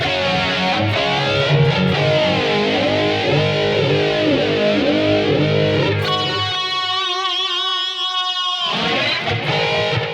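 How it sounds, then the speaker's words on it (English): Heavily distorted 80s heavy metal electric guitar tone from a BOSS eBand JS rings out loud and sustained, thick chords shifting into a wavering held note that cuts off near the end. "This tone screams 80s heavy metal, 80s glam."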